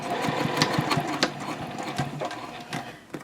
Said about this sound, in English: and just stitch across, maintaining that 1/4 inch seam.